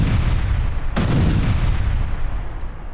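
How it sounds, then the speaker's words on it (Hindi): Explosions over residential areas of Krasnodar, Russia: a sharp, loud boom near the one-second mark spreads out over a continuous rumbling background of low noise, with no voices. "दूर तक सुनी गई धमाकों की आवाज"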